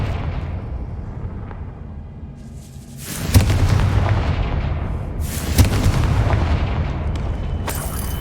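Confringo spell blasts in Hogwarts Legacy go off as two loud booming explosions a couple of seconds apart, each trailing into a long rumbling roar over continuous low combat noise.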